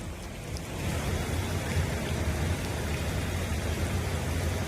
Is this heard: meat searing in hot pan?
no